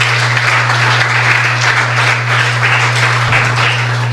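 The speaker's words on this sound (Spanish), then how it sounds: "Dale otro fuerte aplauso al Señor." Steady applause from a church congregation during a Spanish-language service, a dense continuous wash of clapping for several seconds over a low electrical hum, with no talking.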